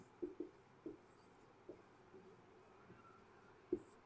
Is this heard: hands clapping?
no